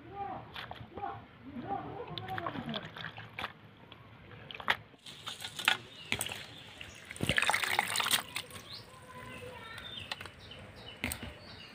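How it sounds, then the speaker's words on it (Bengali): Lapa greens are swished and rinsed by hand in a bowl of water, quiet trickling, dripping and soft sloshing with scattered squishy handling sounds, close and faint. "এবার শাকটা ধুয়ে নেব।"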